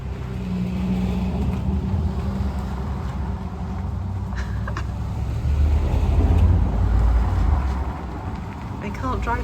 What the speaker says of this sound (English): Definitely some kind of four-wheel drive thing.